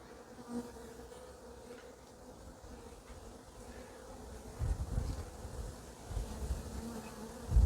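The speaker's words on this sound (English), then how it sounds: "Oh yeah, there's lots of bees about." European dark honey bees hum and buzz steadily around a hive nearby, a soft continuous drone with occasional louder passes close by, no talking.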